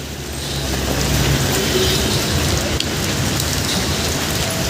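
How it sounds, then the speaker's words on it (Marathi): Steady downpour of heavy rain roars close by, a thick constant hiss of drops striking the ground, with one faint knock and no speech. "पाऊसच पाऊस कंटाळले सगळी लोक तीन दिवस झाला पाऊस थांबलेलाच नाही"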